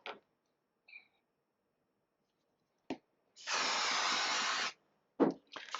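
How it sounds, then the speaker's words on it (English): A can of spray adhesive gives one sustained hissing burst of about a second and a half onto a cardstock card template, close and clear, framed by a few sharp clicks and taps in otherwise quiet surroundings. "I just use a light spray of adhesive"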